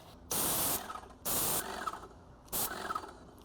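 A paint spray gun spraying house paint at higher pressure, three sharp hissing bursts of about half a second each, evenly spaced, loud and close with quiet gaps between.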